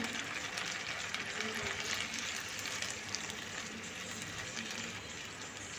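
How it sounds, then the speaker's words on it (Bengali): Red amaranth greens and potatoes sizzle steadily in a cooking pan as they are stirred, a constant, even hiss of frying that is fairly soft and continues without a break. "এভাবে পুরো শাকটাই আমি আলুর সঙ্গে মিশিয়ে মিশিয়ে রান্না করে নেব"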